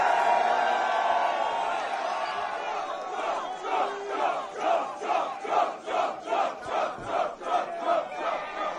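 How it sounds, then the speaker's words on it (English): A crowd of young people on a college campus roars and cheers, starting with a loud sustained yell and then breaking into rhythmic chanting bursts that pulse steadily. "these videos of these young people cheering at the college campuses"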